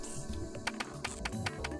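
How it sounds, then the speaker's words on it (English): Computer keyboard typing from the visual novel game Steins;Gate, a steady run of quick, close key clicks at an even pace with no talking. "Daru types on the keyboard from the side,"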